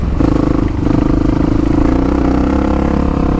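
A 1985 Honda XR350R dirt bike ridden across the desert, its engine droning loud and close with a steady held tone and rattling clatter throughout, no voices.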